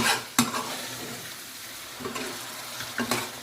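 A ladle of base gravy being mixed into a frying BIR-style chicken Madras curry, with a few spoon scrapes against the pan over a constant close sizzle.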